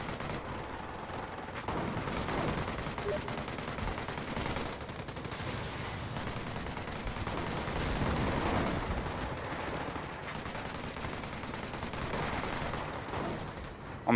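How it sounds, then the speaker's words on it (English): Sustained machine-gun fire and scattered gunshots in a Company of Heroes 4vs4 battle, a continuous dense rattle of combat with explosions mixed in, loud throughout. "Another squad being pinned down by the machine gun as well."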